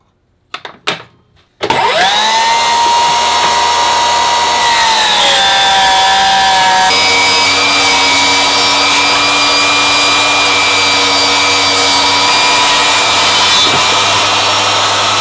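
Power saw ripping a piece of scrap wood in half: a sharp knock, then the blade spins up to a loud, steady whine that holds for about thirteen seconds with slight pitch drops as it bites into the wood.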